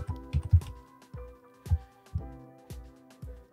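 Typing on a computer keyboard into a type box, a handful of close, distinct keystrokes in uneven bursts against a faint background hum, with no talking.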